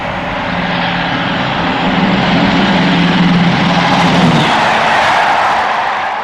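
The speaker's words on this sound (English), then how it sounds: "Deltic 19 heads north at speed on the Thales Flyer." Class 55 Deltic diesel locomotive heading north at speed on a railtour, a loud sustained engine roar with low droning harmonics that build and then fade as it passes close by.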